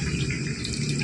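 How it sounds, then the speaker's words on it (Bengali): Water poured into a pan of small potato and pea curry, a loud, close, continuous rushing splash for the whole brief moment. "দেখুন মামনি এবার পরিমাণ মতো জল অ্যাড করে দিচ্ছে"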